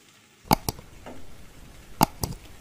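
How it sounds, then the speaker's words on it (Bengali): Moringa leaves being stirred in a frying pan, giving two pairs of sharp spatula scrapes and taps against the pan over a low, steady sizzle, close and fairly quiet. "এবার একটু নেড়ে নিচ্ছি।"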